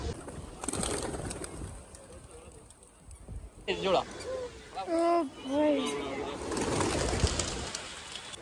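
Pigeons coo softly up close amid a steady rustling background at the Gateway of India in Mumbai, with wings fluttering and shuffling around them as they land on a hand.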